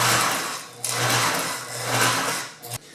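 A sewing machine back-stitching car upholstery runs in fast, close, buzzing bursts, slowing briefly before stopping with a clunk.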